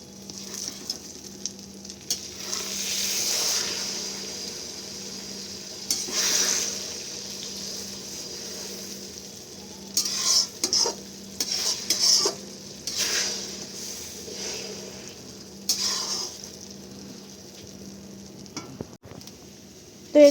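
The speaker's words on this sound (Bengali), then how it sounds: "ডিমের ভুজিয়া যেরকম করে ওরকম পিস পিস করে পুরো কড়াইয়ের মধ্যে একটু ঝুড়ো ঝুড়ো করে নেবো" Beaten egg is broken into rough pieces in a hot kadai, with soft continuous sizzling under repeated scraping and stirring strokes of a spatula against the metal, bursts of clatter coming in clusters.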